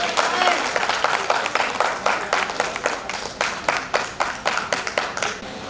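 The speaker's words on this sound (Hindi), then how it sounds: "हाँ, साथ ही तालियों के साथ गड़गड़ाहट से आपका स्वागत करेंगे।" A crowd at an all-India poetry gathering in Ayodhya claps to welcome a poet, a run of crisp, separate hand claps that falls into a loose rhythm and gradually thins, with a voice heard faintly near the start.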